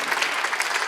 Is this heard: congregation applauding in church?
yes